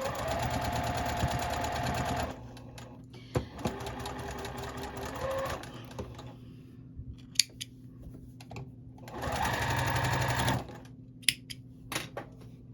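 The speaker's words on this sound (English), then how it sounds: "And then I'm going to sew it down there." A sewing machine stitches fabric for a log cabin quilt block, running in two loud whirring bursts separated by quiet gaps with small clicks and taps of handling.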